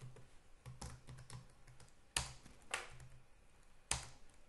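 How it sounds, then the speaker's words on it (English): Keys tapped on a computer keyboard while entering a cron schedule for a backup job, a quiet irregular run of soft clicks with a few sharper, louder strokes standing out. "So let's write it."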